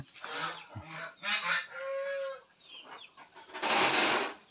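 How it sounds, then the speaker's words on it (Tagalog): Geese honk on a farm, several loud calls in bursts with chickens clucking nearby, fairly close and with no talking. "Ayan pa yung mga gansa sa baba."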